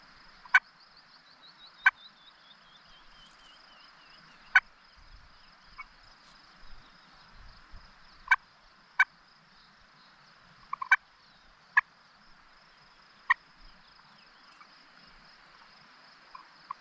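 Wild turkeys gobbling outdoors while hunting in Washington, a dozen or so sharp, fairly distant gobbles spaced irregularly over a quiet background with faint insect or bird chirping.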